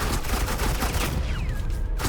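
Rapid bursts of gunfire in the Telltale Batman video game, dense overlapping shots over about two seconds with a short ringing whine near the end.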